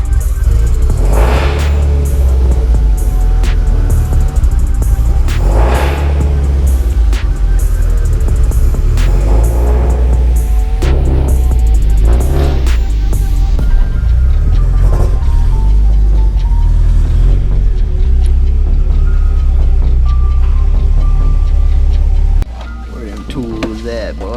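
A Subaru STI engine rumbles low and steady as the car backs out of a workshop bay, with voices talking over it and clattering shop noise, the rumble dropping away near the end.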